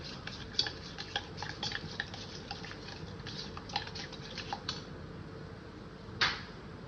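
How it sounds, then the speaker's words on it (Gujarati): A spoon stirs turmeric, garam masala and coriander-cumin powder into yogurt, making soft irregular scraping and light ticking taps against the bowl at a quiet, close level, ending with a slightly louder clink. "આવું મિક્સ થાય ને ત્યાં સુધી એને મિક્સ કરી લેવાનું"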